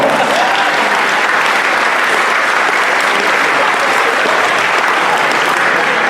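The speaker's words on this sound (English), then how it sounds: "Give yourself a round of applause." Sustained audience applause at a high school foundation event fills the room, dense and steady throughout without a break.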